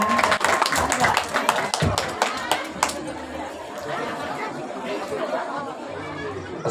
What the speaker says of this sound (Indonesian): Tepuk tangan kepada Ustadz